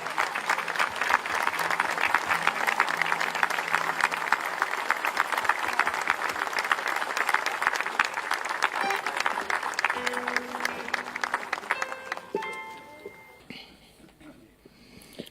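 Steady applause from a crowd at a beatification ceremony for martyrs in Argentina, dense clapping held for about twelve seconds before thinning out and fading, with a faint voice and scattered noises near the end.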